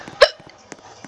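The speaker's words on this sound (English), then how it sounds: "I got hiccups." A single sharp hiccup stands out clearly and close, followed by faint quiet sounds, during a Roblox game session.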